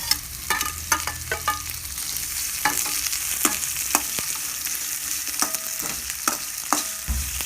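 Onion and green chillies sauté in a hot pan with a bright, continuous sizzle, punctuated by frequent sharp spatula clinks and stirring scrapes close by.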